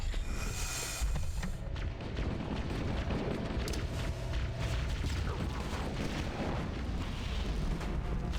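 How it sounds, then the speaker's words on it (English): Loud, continuous explosive rumble from an overloading pulse generator in Halo: Combat Evolved, a dense roaring blast that booms steadily for several seconds with crackling debris and no talk over it. "The pulse generator overloaded."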